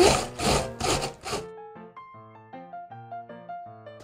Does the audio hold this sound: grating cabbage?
yes